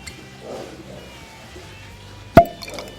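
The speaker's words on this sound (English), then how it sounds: "That's probably the best cork pop I've ever had, except maybe on champagne." A cork pulled from a bottle of Keeper's Heart Irish American whisky gives one sharp, close pop, followed by a soft hollow ring amid quiet room tone.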